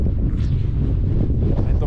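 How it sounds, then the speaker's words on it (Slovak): Strong wind buffets the microphone outdoors in a loud, continuous rumbling roar with no pauses, steady and close throughout. "Ako je tu príjemne, strašne tu fúka, taký vetrisko."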